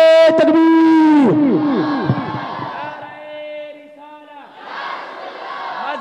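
A large crowd at an Islamic religious gathering shouts a slogan response in unison, loud, echoing chanted cries that swell and fall over a few seconds, with a sustained ringing reverberation.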